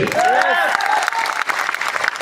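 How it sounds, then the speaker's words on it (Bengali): A crowd clapping steadily and loudly at a youth development institute event, dense applause filling the whole moment, with a faint voice and a brief whistle-like tone near the start. "ওনাদের জন্য তালি হবে"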